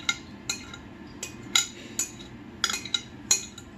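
A spoon stirs bread pudding mixture in a bowl, giving a series of sharp, close clinks and scrapes against the bowl at an uneven rhythm, with no talking.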